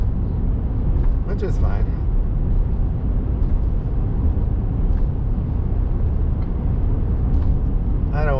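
Steady road rumble from a car driving on a highway between Jackson and Wisdom, Montana, a continuous loud drone from inside the vehicle with a brief voice over it.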